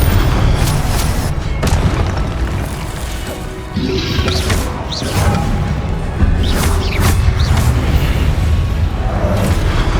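Confringo blasting curses detonate again and again amid a Hogwarts Legacy duel, heavy booms and crashing impacts landing in quick, uneven succession at a loud, sustained level.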